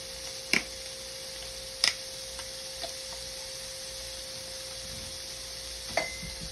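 A steady, soft sizzle of potatoes frying in a pan, with a few faint clicks and taps scattered through it.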